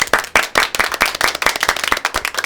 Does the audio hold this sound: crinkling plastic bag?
no